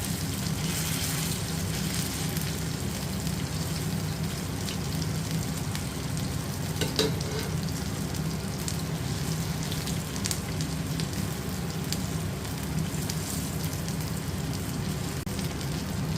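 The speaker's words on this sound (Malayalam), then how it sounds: "നമ്മൾ ഫ്രൈ ചെയ്യണം. മറിച്ചും തിരിച്ച് ഇട്ടുകൊണ്ടിരിക്കണം." Chicken pieces for barbecue fry in oil in a pan, a dense, continuous crackling sizzle like steady rain that runs unbroken and fairly loud, with no voices.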